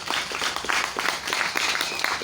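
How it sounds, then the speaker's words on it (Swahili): A church congregation at a Sunday service claps for Jesus, with steady rhythmic applause from many hands filling the room throughout, fairly loud and close, without clear speech on top. "Pigia Bwana Yesu makofi mazuri."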